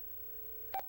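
Studio telephone ringing, a single short electronic tone burst rising briefly over a quiet low hum.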